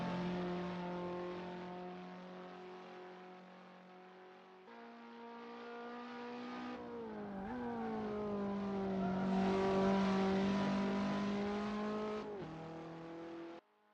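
Race car engine in the racing sim Assetto Corsa, a loud, steady droning whine that shifts pitch as revs rise and fall with gear changes, continuous and close without any voices.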